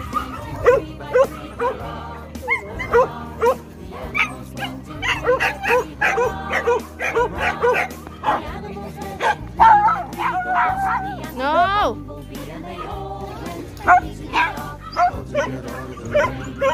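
Small dogs bark and yip repeatedly at close range, some whimpering mixed in, while people talk and one shouts over them.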